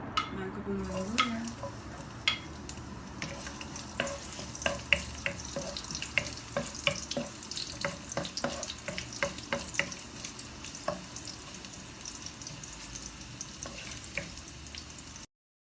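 Ginger, garlic and tomato sauté for chicken tinola, sizzling steadily in a pan as a utensil scrapes and clacks in quick, irregular strokes, close and clear with no talking.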